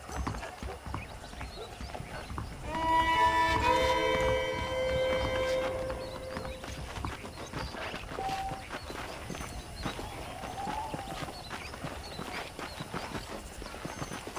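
A horse in Red Dead Redemption clip-clops along with steady hoofbeats and lets out a clear whinny early on, while game music and a voice carry on underneath.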